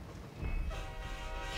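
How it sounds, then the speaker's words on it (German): A train rushes past in the PS3 racing game Need For Speed The Run: a loud, dense rolling rumble with a sustained horn-like tone rising over it, filling the whole moment without any talk. "Da ist der Zug."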